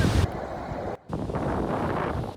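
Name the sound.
ocean waves and wind at a beach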